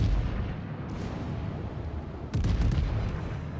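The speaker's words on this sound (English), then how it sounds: "that was pretty good salvo" A naval gun salvo thunders in World of Warships: a heavy boom lands early, then a louder cluster of rapid, overlapping blasts rolls out, close and dominant with no talking.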